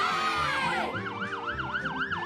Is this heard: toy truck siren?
yes